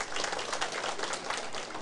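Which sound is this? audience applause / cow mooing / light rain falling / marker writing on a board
audience applause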